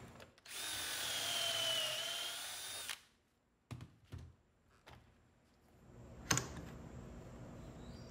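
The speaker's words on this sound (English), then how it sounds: "To hold the frames together, we'll use pocket hole screws." Power drill driving pocket hole screws into a wooden door frame, a steady whining run of about two and a half seconds followed by short bursts and a final sharp knock, close up.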